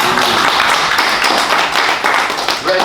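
Dense, steady applause from an audience at a branding masterclass graduation ceremony, many hands clapping close together and continuously for about three seconds without pause.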